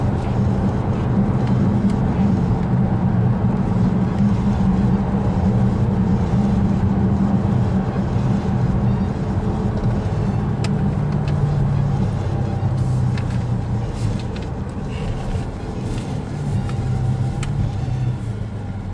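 Dodge Demon car driving, heard from inside the cabin as a loud, steady low engine and road drone that holds for the whole stretch, with a slight easing toward the end.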